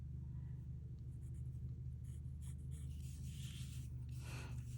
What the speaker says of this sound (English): I'll come through with my blender stump and I will smudge all of this pencil lead